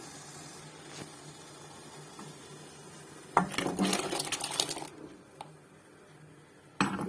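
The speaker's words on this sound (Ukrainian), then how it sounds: "До цієї води відправляємо нарізану картоплю." A burst of splashing and clattering as chopped potatoes drop into about three liters of water in a metal pot, followed by quieter kitchen sounds and a final clunk.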